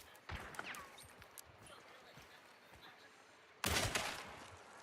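Gunfire from the video game Hunt: Showdown: a sharp shot near the start, then a louder, sustained blast with a decaying tail later, over faint background noise.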